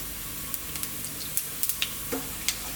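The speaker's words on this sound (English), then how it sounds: "Our cumin seeds, in they go." Cumin seeds hiss and sizzle steadily in hot sunflower oil in a wok, a close, continuous frying crackle with scattered small pops and spits.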